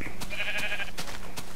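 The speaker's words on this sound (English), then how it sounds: "What's up, sheep?" Sheep in the Minecraft video game give a short, nasal bleat, close and clear, lasting under a second amid soft repeated thumps of in-game footsteps.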